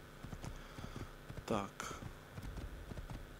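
Horse hooves clip-clopping at a steady walking pace in the video game Assassin's Creed, soft rhythmic thuds under a brief spoken word.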